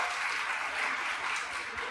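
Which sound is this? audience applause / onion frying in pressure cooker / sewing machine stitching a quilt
audience applause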